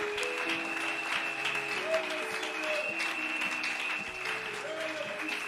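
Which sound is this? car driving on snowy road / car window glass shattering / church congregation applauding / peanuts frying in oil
church congregation applauding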